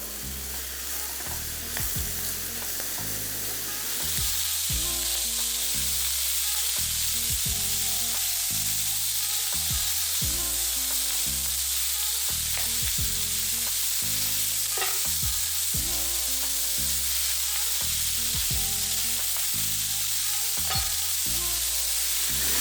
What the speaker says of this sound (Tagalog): Importante na habang nagsisear, dapat naka-high heat lang lagi tayo at halu-haluin nyo rin para maging pantay yung pagkakaluto.